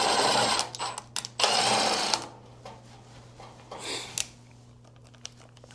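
An impact driver sets screws while a front Safari window is installed on a VW van. Loud, close, buzzing bursts run for about two seconds, then a shorter burst follows after a pause, with no speech.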